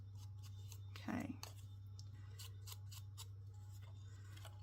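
Scissors make a single crisp snip through paper at close range. It is quiet and set against a steady low electrical hum, with faint ticks and handling sounds around it.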